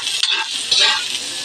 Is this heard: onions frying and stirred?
yes